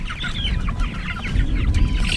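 Farm chickens on fresh pasture cluck busily and continuously while pecking at scattered grain, a close, lively chorus of overlapping clucks.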